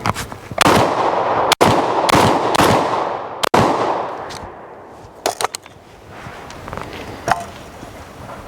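Loud shotgun blasts from a Garaysar Fear 125 being test fired, several sharp reports spaced across the stretch with echoing decay, plus lighter clicks of the action cycling between shots.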